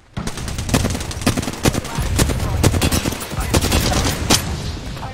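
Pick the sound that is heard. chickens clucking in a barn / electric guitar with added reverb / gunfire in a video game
gunfire in a video game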